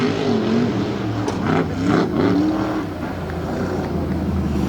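Loud, steady roar of a tough truck's racing engine at an Indianapolis event, rising in pitch as it accelerates and then settling, heard close with no talk over it.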